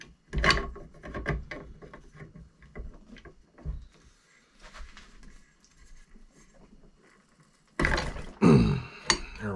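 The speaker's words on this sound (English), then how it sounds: "I'm going to go ahead and get the barrel nut off." Wrench breaking loose an AR-15 barrel nut held in a vise block: a series of scraping, ratcheting metal clicks and rasps, with a louder burst of grinding strain near the end, close and fairly loud.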